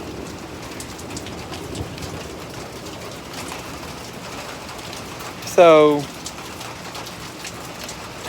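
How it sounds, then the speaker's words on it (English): Steady rain falling during an Ohio thunderstorm, a constant even hiss of drops on surfaces, with a brief loud voice cutting in partway through. "it's been raining like this for about the past hour"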